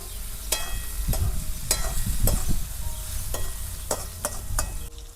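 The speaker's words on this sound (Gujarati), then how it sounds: "લીલા મરચા, ડુંગળી મિક્સ કરી દઈશું" Green chillies, onion and tomato with asafoetida and curry leaves sizzle in a hot pan while a spoon stirs and scrapes in sharp, irregular strokes, loud and close with no talking.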